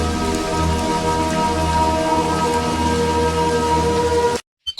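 Steady rainfall used as a sound effect in a story, a continuous close patter of drops on surfaces that cuts off abruptly near the end.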